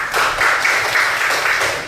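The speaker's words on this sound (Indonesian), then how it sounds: "Ya, ayo tepuk tangan." A classroom of students applauding during an Indonesian school lesson: steady, fairly close clapping from many hands that sustains evenly for about two seconds with no talk over it.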